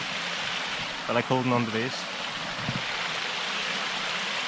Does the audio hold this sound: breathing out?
no